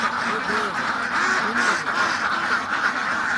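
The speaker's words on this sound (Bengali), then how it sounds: "আপনাদেরকে হাঁসগুলো দেখাচ্ছি" Farm ducks brought from Sylhet, raised on wetland, quacking repeatedly in a busy overlapping chorus, several birds close by over a steady background hiss.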